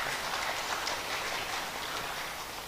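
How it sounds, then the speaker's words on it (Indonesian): A crowd applauds at an investment and tourism event in Probolinggo, a steady, dense wash of clapping that carries evenly at moderate loudness with no voices over it. "Beri tepuk tangan dulu ke Pak Gus Haris."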